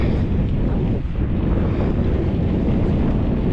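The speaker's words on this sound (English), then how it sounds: "it's already really windy" Strong wind roars steadily into the microphone in 7°F weather in Minnesota while bicycle touring, a dense low rumble buffeting throughout with no pauses.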